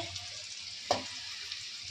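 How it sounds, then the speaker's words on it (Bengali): Gram flour (besan) vegetable fritters frying in a home kitchen, giving a soft, steady hiss of sizzling oil with one brief clatter midway; nobody speaks. "তো এই বড়াটা ভাজা হচ্ছে"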